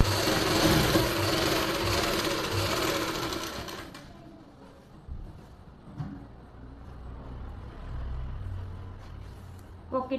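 A sewing machine stitches palazzo fabric over elastic in a steady, loud mechanical whir that stops partway, followed by quieter handling noises and a brief restart.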